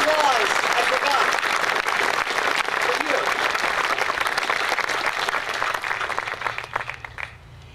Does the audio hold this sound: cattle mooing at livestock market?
no